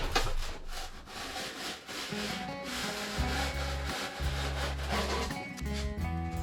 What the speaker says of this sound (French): Faut essayer de couper précis.